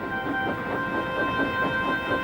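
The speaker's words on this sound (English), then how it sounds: "Percy waited on the siding until Henry had steamed by." A steam engine hauling a goods train rolls past with a steady, close rumble and faint rhythmic clatter, carrying a few sustained tonal hums throughout the short stretch.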